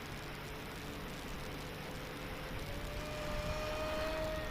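An FMS Pilatus PC-21 RC plane, 1100 mm span, passing low along a runway, with a steady broadband propeller and motor whine and a rising pitch glide that grows slightly louder toward the end.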